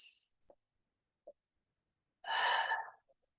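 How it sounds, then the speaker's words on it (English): A single person draws a quick breath in through the nose, a soft, close, airy inhale that lasts about a second, after a few tiny faint clicks and a brief sniff; no speech. "6 breaths in through the nose"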